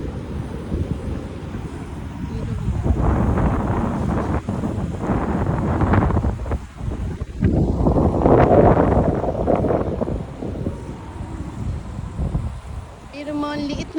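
Wind gusts outdoors beside a large new mall in Singapore, a loud rumbling buffet against the microphone that swells and eases over several seconds, with a voice speaking faintly underneath.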